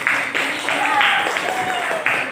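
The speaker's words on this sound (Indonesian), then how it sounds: "Tepuk tangan untuk" Students in a vocational school classroom applaud a classmate, brisk clapping from a modest group that comes in uneven bursts, with voices mixed in.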